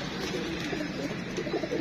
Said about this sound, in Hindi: तो ये जी माशाल्लाह ये आज कबूतर निकालने लगे हैं बाहर ये वाले